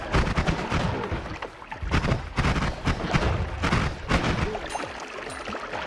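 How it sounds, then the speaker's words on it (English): Explosions in a video game: a string of loud, close broadband bursts and crashes, one after another with short gaps, filling the whole stretch alone. "I guess it was an explosion, but why?"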